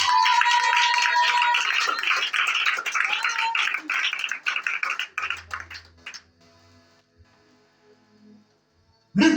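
A church congregation bursts into loud, dense clapping during a French-language sermon, a sustained burst of rapid claps that thins out and fades over several seconds, leaving a quiet room with faint low hum before a brief loud return at the end.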